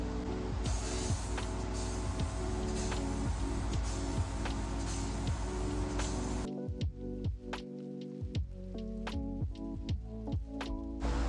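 A spray paint can hisses steadily while coating a Stratocaster-style guitar body, a continuous close spray that cuts off abruptly partway through, leaving scattered clicks and small sputters.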